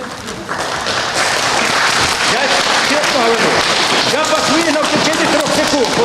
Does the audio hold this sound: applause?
yes